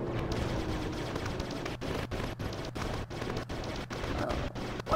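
Weapons firing in the Aquaman Battle for Atlantis video game, a rapid run of repeated shots over a dense, steady background roar, continuous and fairly loud, with no talk.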